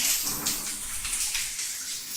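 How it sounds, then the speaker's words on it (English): Close binaural water sound like hair being washed: a soft, continuous rushing wash with gentle swells, intimate and steady, with no voices. "I do like the sounds of water"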